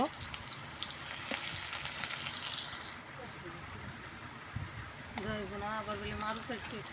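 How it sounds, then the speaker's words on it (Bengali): Chopped onions frying in a pan for biryani, a steady close sizzle with stirring, while someone talks over the cooking in the second half. "পেঁয়াজগুলো ভালোভাবে হালকা ঝলসিয়ে নিব।"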